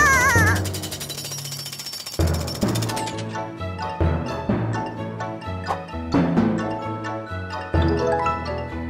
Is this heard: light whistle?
no